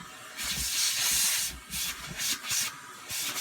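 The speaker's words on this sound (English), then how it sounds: "I just turn back on my central vac, and I clean this thing off." A central vacuum system's suction hose cleans a bagless vacuum bin, with loud, close hissing airflow that surges and drops in short bursts as the nozzle moves.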